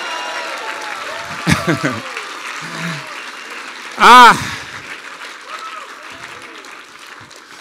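An audience at a worship concert bursts into applause and cheers after a call to praise, a brief swell of clapping and shouts that fades quickly under a speaker's voice.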